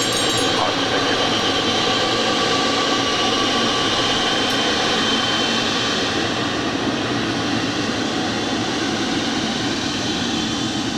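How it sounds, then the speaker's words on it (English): A Boeing 777 jet arriving from Cincinnati at Los Angeles airport gives a sustained, loud broadband roar that holds steady for the whole stretch, with no talk over it. "This is Coletta Air Flight 232 coming in from Cincinnati in this 777"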